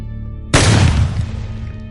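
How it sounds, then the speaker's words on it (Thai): A single sharp shotgun blast cracks out suddenly in a forest, followed by a fading rumble as it echoes away, with a low steady hum underneath. "เสียงปืนก้องกังวานป่า"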